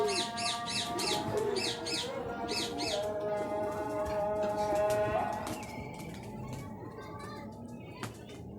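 An Imamdeen pigeon, a female, is close by, with soft cooing and repeated chirping calls over faint background noise; a person talks briefly.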